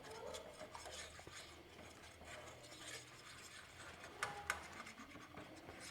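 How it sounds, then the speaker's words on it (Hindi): Chocolate cake batter is stirred in a pan with quiet scraping and rubbing strokes that repeat in an irregular rhythm, faint and close, with a couple of light clicks toward the end. "अच्छे से चलाते रहना है ताकि इसमें गुठलियाँ ना बने, बॉल्स ना बने"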